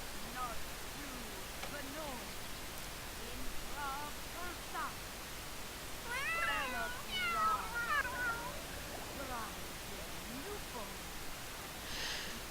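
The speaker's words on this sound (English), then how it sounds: "Even with only 5 cats, there's lots of meowing going on." Several cats meow in a life-simulation video game, a scattered series of short mews that cluster into a busier chorus midway, over a soft hiss, fairly faint.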